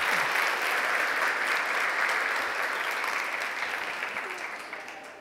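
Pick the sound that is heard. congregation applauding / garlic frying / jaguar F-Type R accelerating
congregation applauding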